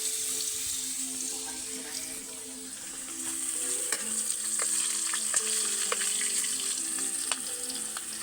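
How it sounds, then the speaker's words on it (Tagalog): Okra frying in a pan gives a steady, close sizzle and crackle throughout, with occasional sharp pops and a running-water sound in the background. "Luluto po ako ng okra."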